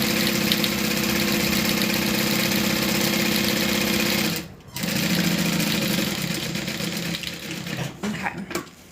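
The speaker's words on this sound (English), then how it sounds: "that's how I sew a straight line" A sewing machine stitches a straight line on a zip-around wallet, keeping up a loud, steady mechanical hum and rapid needle chatter. It pauses briefly, then resumes close by.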